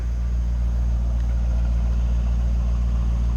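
Steady low idle of a 2004 Chevrolet Corvette Commemorative Edition convertible, a deep continuous engine rumble held close and even for a few seconds with no revving and no talk.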